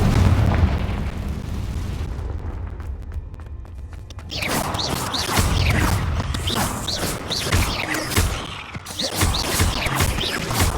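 The Confringo spell explodes in the game Hogwarts Legacy, with loud booming blasts and crashing bursts that continue densely through the battle scene.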